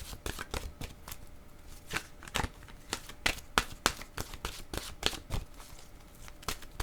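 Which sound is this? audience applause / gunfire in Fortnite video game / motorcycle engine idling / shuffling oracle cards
shuffling oracle cards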